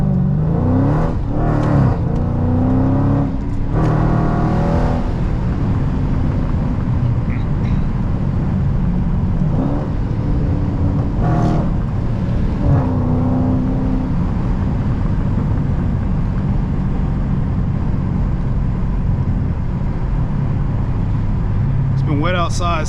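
Dodge SRT 392 Scat Pack on a wet road, engine note rising and falling through bursts of throttle, with someone talking over the steady cabin drone and occasional sharp clicks.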